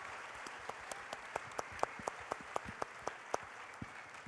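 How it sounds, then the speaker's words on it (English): An audience at a church conference session claps, soft and fairly regular, with distinct claps over a quiet room. "So can we give them a round of applause?"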